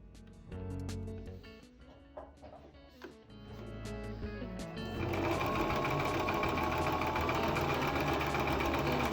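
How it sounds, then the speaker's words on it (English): A sewing machine stitches along the curved seam of a fabric face mask, starting and stopping briefly before running in a steady, loud, continuous whir for the final several seconds. "We're going to sew along the curve."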